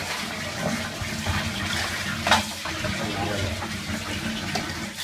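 Water runs and splashes steadily as a silkscreen printing block is rinsed, a continuous close spray with small surges and no clear talk.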